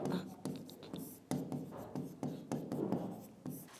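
Chalk or a marker scratches across a board in repeated short strokes, close and steady, with soft talk faintly underneath.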